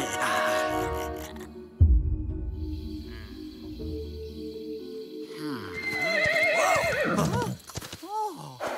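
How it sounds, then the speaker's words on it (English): Horses neigh and whinny repeatedly in an animated adventure fight scene, with clip-clop hooves and a sudden thud, loud and close, while voices shout over parts of it. "Catch those horses!"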